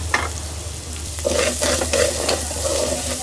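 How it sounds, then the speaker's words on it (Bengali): Ginger and garlic paste fry with rice, cinnamon, cardamom and cloves in a pan: a close sizzle with repeated stirring scrapes and knocks, plus a low steady hum beneath. "ভালো মতন ভাজা হয়ে গেছে।"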